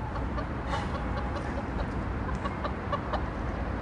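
A hen named Daisy clucks softly in short, irregular bursts over a steady background hiss, with no voices.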